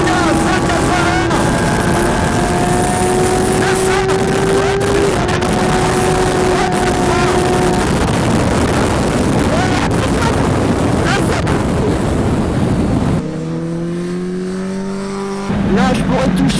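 A racing motorcycle screams along a track at around 180 km/h, its engine loud and rising in pitch with roaring wind, easing briefly near the end; excited voices speak over it.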